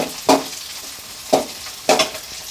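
Chopped onion frying in oil for a paneer masala gravy: a soft, steady sizzle broken by three distinct scraping stirs of the pan, with no one talking.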